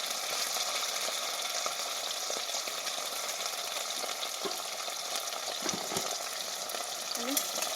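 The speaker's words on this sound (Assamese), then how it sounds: "এইফালে মই আলু কেইটাও এনেকৈ ৰঙা হোৱাকৈ ভাজি ল'ম" Potatoes frying in a pan make a steady, loud sizzle that fills the whole clip, with a few soft scrapes and clinks near the end and no voice.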